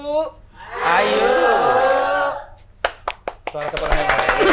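An audience at a talk-show-style event breaks into applause, with brief scattered claps starting after a stretch of voices and building into denser clapping at the end.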